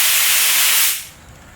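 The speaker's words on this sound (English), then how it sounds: "all you have to do is trigger the first part of the trigger. And all you get is air." A handheld sprayer's trigger pressed to its first stage releases a loud, steady hiss of air for about a second, then cuts off abruptly, leaving faint room noise.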